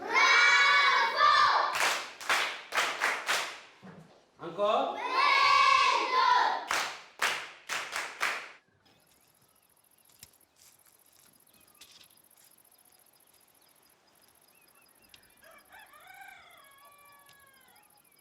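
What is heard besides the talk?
children clapping and applauding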